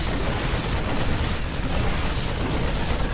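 A base being destroyed in a StarCraft match explodes in a sustained, dense rumble of blasts and crackling bursts that continues for several seconds at a steady, loud level with no voices.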